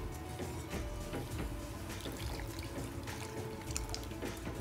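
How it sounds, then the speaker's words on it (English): Broth poured into a hot pan for gravy, a soft continuous watery rush and bubbling with faint scraping, close and quiet throughout. "And you can see as I'm adding in the liquid, I'm able to scrape off some of this nice brown goodness"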